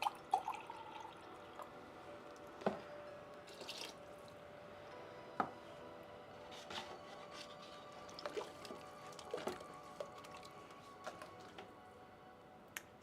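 Water is poured into a ceramic glaze mix, heard as faint, scattered drips and trickles with soft wet splashes spread irregularly across a quiet background.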